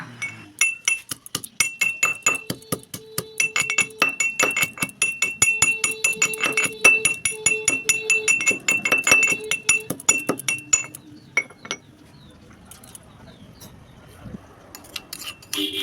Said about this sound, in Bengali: এর মধ্যে থেতো করে দেব দুটো এলাচ একটা বড় এলাচ আর এক টুকরো আদা